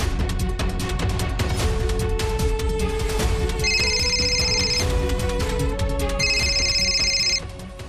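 A telephone ringing in a Gujarati TV drama scene, a repeating electronic ring in bursts over loud dramatic background music, with no talk.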